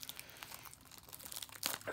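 Plastic shrink wrap on a Darkwing Blast trading card booster box crinkles and tears in quick, close, fairly faint rustles, with a sharper rip near the end.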